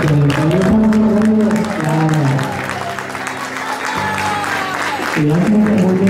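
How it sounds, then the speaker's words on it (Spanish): Wedding guests applaud right after a civil marriage ceremony, a clatter of clapping running under prominent music or singing that carries through most of the stretch. "Denle un aplauso."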